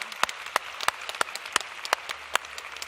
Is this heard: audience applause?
yes